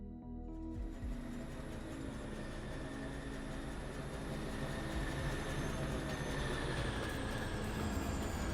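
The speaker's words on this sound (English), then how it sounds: "We can jump on the train because it will fill pretty quickly, I think." Steady rumbling of a train in the factory-building video game Foundry, a continuous loud rolling mechanical drone with faint high whine tones, running alone without talk.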